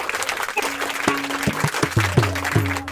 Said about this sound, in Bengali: একটা জোরে হাততালি হয়ে যাক সুরঞ্জনার জন্যে।